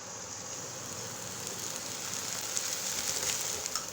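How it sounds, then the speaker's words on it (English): Chopped Marsilea quadrifolia leaves frying in a pan with spices, salt and sambar or masala powder, giving a steady, even sizzle with faint crackling pops that stays close and unbroken throughout. "Nicely we have to fry."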